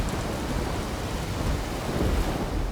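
A dense, steady downpour with low rolling thunder fills the scene as clouds and rain form over the young Earth. The roar stays continuous and loud throughout, with no voices.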